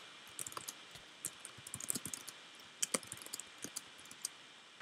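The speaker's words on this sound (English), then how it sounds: "I'm gonna be typing in Sonjy right now" Computer keyboard typing comes in quick, light clicks and bursts, close and faint, with short pauses between runs of keystrokes and no voices.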